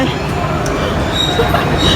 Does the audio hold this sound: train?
yes